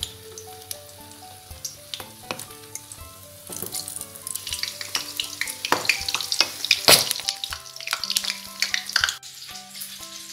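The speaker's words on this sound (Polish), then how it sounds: "Gotowego kurczaka smażymy na rozgrzanym oleju." Small chicken patties fry in hot oil in a pan, a loud steady sizzle and crackle with bursts of spattering and a few clicks, no voices.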